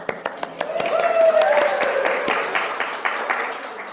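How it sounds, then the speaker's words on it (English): A crowd in a royal court bursts into applause, a dense patter of many clapping hands that swells and then settles, heard close under a speaking voice. "The court erupted into applause."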